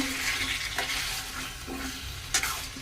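Tomato pieces sizzle in a hot pan for a pumpkin pulusu while a spoon stirs through them, giving a steady close frying hiss broken by a few scraping strokes.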